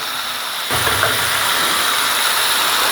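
Chopped bottle gourd and potato drop into hot oil with lightly fried white sesame seeds, setting off a sudden loud, steady sizzling hiss that continues to the end.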